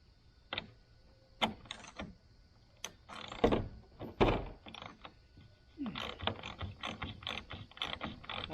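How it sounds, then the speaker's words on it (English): Roof bolts being loosened on a Kubota M135GX tractor cab during a roof leak repair, with scattered ratcheting clicks and metallic knocks in quick irregular bursts, close and moderately loud. "I'm going to get up there and pop them 4 bolts out maybe."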